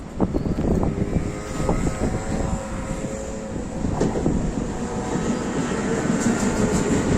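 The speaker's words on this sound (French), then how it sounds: "Là, nous avons RER B qui arrive au gare." An RER B commuter train pulls into a station with a loud, steady rumble and rolling rail noise, and faint squeals and clanks rise over a constant roar filling the clip.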